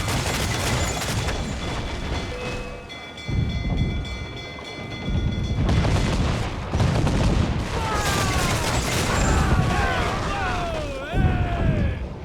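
Ship cannons firing in a broadside during a naval battle in Assassin's Creed Black Flag, heavy booming bursts mixed with rumbling sea and ship noise, with shouted crew voices in between.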